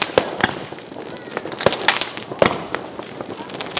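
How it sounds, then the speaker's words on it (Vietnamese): Fireworks bursting at a village Lunar New Year (Tết) celebration in central Vietnam: a run of sharp, loud bangs and crackles at an irregular pace, with crowd voices in the background. "Năm nay pháo hoa cước phòng rất là nhiều nhé cả nhà."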